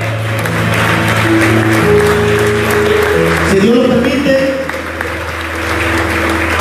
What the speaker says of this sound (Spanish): aventémosle palmas a Cristo Jesús.